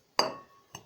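Stirring homemade cake mix in a container gives two sharp, bright clinks, a louder ring first and a fainter tap just after, close up and otherwise quiet.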